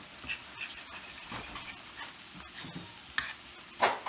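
Frozen cauliflower being stirred with seasonings, faint scraping and light sizzle in short irregular bursts, with a couple of sharper clicks near the end.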